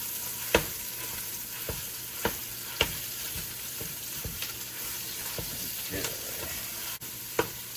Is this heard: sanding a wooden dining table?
no